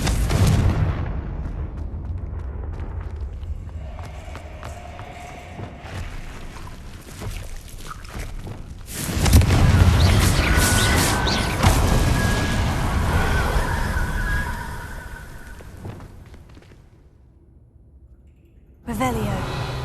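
Confringo fire spell blasts in Hogwarts Legacy, a sharp burst followed by a loud, broad explosive roar that swells and decays over several seconds, with further magical whooshes and game ambience before and after.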